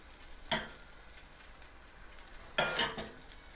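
Butter hitting hot oven-cooked mutton seekh kebabs gives two short bursts of sizzling over a quiet, faint background hiss.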